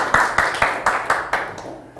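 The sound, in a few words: audience applause at a lecture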